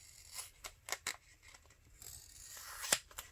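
Scissors cut through strong, heavy canvas fabric in a series of close, crisp snips and rasping cuts, with short pauses between them and no talk.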